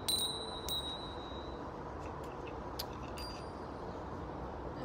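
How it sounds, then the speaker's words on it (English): A small meditation chime is rung a couple of times, giving clear high ringing tones that sustain and fade over a steady background hiss, with a few faint taps later. "a nice little chime."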